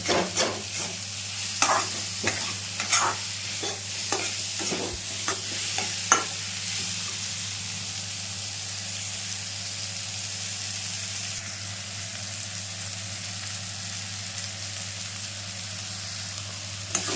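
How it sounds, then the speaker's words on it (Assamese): Chopped onions frying in a pan for a village-style Assamese tura fish curry, with a steady sizzle throughout and scraping stir strokes in the first six seconds, close and moderately loud, with no voices. "পিঁয়াজখিনিকে ধুনীয়াকৈ ভাজিব দেই"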